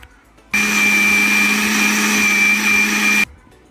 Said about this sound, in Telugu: ఇప్పుడు మళ్ళీ ఇది మిక్సీ చేసి పెట్టుకో.